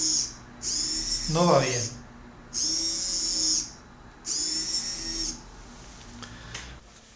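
An Arduino-controlled servo motor jerks abruptly back and forth, sending out three separate high, buzzing whines, each lasting about a second, while someone speaks briefly over the first burst.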